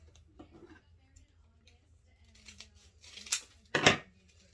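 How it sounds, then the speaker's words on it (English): Scissors cutting paper to size for a cheesecake pan, a few crisp close snips building toward the end, after quiet soft handling sounds. "Then you're going to cut right there."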